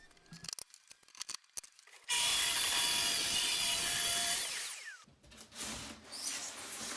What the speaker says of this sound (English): sometimes I still use my track saw to break down the sheets into manageable pieces